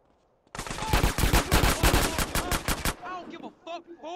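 Rapid bursts of gunfire from Grand Theft Auto San Andreas, a loud dense volley lasting a couple of seconds, followed by scattered shots and game sound effects.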